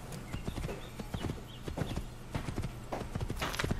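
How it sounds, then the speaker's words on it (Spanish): Rapid rhythmic hoofbeats of a galloping horse in the Assassin's Creed game, clip-clopping steadily throughout at moderate level with no talk. "Mi fiel caballo."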